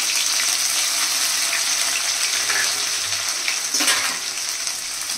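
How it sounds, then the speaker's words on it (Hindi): Mustard seeds, cumin and ginger-garlic-chili paste crackling and sizzling in hot oil, a loud, close, continuous hiss with small pops, no voices. "हमारा तेल गरम हो गया है, हम सरसों, जीरा, राई डाल देते हैं।"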